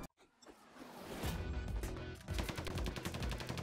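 Lemon's gun in Assault Android Cactus lets off rapid, evenly spaced light shots in a quick rhythmic burst that grows louder and more regular toward the end, with no talking over it.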